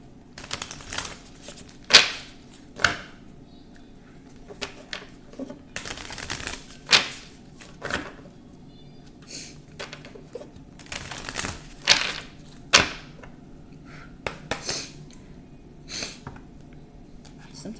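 Tarot cards are shuffled by hand in repeated bursts of riffling and slapping, close and crisp, with quiet pauses and low room noise between the bursts.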